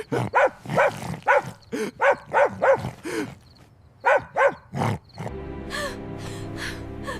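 Dog barking at a thief, a rapid burst of loud, close barks and yelps in quick succession, a short pause, then a few more barks before a droning background takes over.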